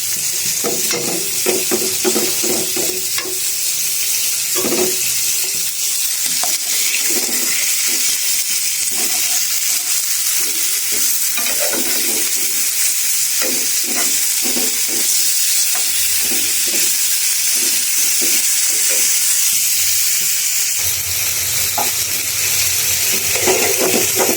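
Tilapia fish curry with garlic and green chilies stir-fried in a pan, a loud continuous sizzle with repeated scraping stirs of a spatula close up, no voices.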